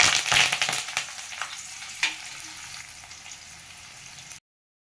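Onion, curry leaves and green chilli frying with mustard seeds and cumin in oil for paruppu kulambu, a close, steady crackling sizzle with sharper spits in the first half second and near two seconds, easing to a softer hiss before it cuts off.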